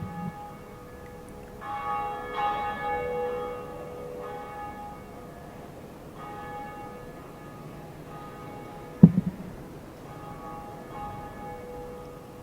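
A church bell tolls in Dark Souls after a lever sets it swinging, with several resonant ringing strikes and long decays over quiet game ambience, plus one sharp mechanical clunk partway through.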